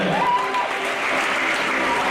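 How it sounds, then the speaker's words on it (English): Continuous applause from the audience at a university induction and oath-taking ceremony, a dense, even wash of clapping with a faint tone and murmurs underneath. "A round of applause for them."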